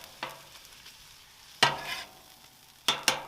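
Seasonings of oregano and garlic salt are mixed with olive oil in a bowl, giving a few brief wet scraping stirs separated by near-silence, with no talking.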